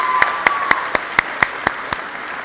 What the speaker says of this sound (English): Can we have another round of applause for our Unified Arts recipients?